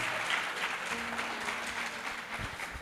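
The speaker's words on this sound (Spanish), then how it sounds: "Dale un aplauso al Señor." A church congregation at a Spanish-language evening service applauds in praise, giving a continuous, even patter of many hands clapping at moderate volume, with faint low tones beneath.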